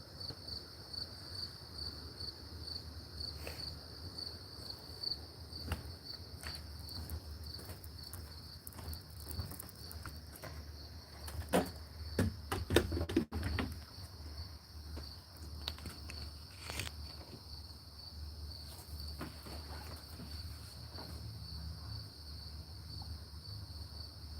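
A loud cricket chirps in a steady, continuous trill on a Cleveland night, with a few faint footsteps or rustles in the middle.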